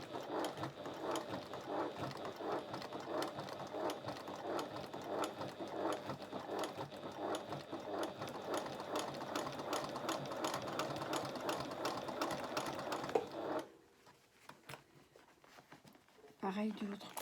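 A sewing machine slowly topstitches the curved seam of a bag body, running in a steady, dense mechanical patter for about thirteen seconds before stopping, with only faint handling noise after.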